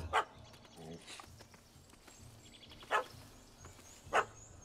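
A dog barks in The Witcher 3, three short sharp barks spaced apart near the start, around three seconds and just past four seconds, over a low game ambience.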